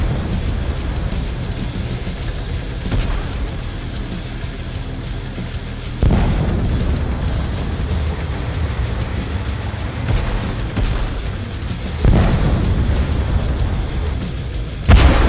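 Tanks come under artillery fire in the video game Tank Force: a continuous heavy rumble broken by deep booming impacts landing about every six seconds, with no voices.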